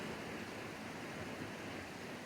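A stream on the Appalachian Trail in East Tennessee flows in a steady, dense rush of water, constant and moderately quiet with no distinct splashes or voices.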